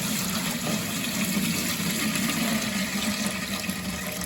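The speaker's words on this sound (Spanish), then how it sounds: "Miren, tengo que echar agua." Water is poured into a pot for steaming tamales, one that holds a few coins at the bottom. It makes a continuous, even splashing gush at close range for the whole stretch, with no voices.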